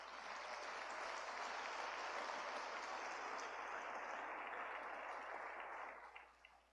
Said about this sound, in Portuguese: Aplauda o nome do Senhor por isso